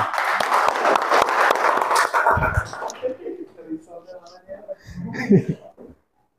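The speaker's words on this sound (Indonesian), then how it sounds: "Tepuk tangan untuk kita semua" Students in a classroom clapping during a practice teaching lesson, a short round of hands for about two seconds that gives way to talking voices.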